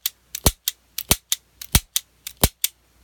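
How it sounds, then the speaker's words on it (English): A Sccy CPX-1 9mm pistol fires about eleven sharp, close shots in quick pairs and singles within three seconds, each a crisp crack with short silences between. "So that's how I shoot the gun."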